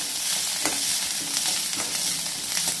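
Curry leaves crackle and sizzle in hot oil for a drumstick curry, a steady, close frying hiss broken by a few sharper pops, with no voices.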